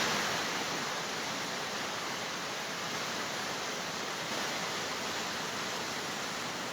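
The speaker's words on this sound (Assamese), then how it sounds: "এই পিনেদি পানী, এই নদীখন বৈ গৈ এইফালে ইয়াত বিপৰ্যয়ৰ সৃষ্টি কৰিছিলে কেদাৰনাথ মন্দিৰত।" A river rushes near Kedarnath Temple, a steady broadband roar of fast mountain water running unbroken and loud throughout, with no voices over it.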